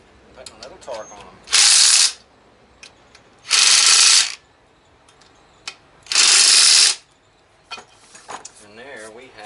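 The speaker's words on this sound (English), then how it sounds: "Getting everything snug up. Putting a little torque on them." A ratchet tightens the bolts on a race mower's engine, giving three loud, separate bursts of fast clicking, with quiet handling noise between them.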